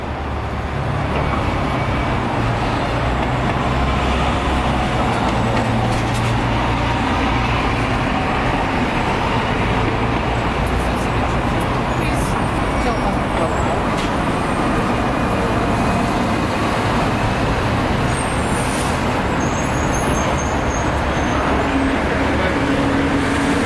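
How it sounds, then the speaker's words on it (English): Steady city street traffic outside a Manhattan department store building, with a continuous dense roar of cars and buses passing close by, low engine rumble throughout and faint voices mixed into the noise. "Look at this traffic."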